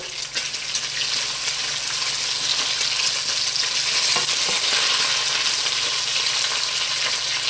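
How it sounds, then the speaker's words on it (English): Bacon fries slowly in a pan, giving a loud, steady hiss and crackle that holds evenly throughout with a few faint pops. "Let me flip the bacon over some more. It's cooking slowly now."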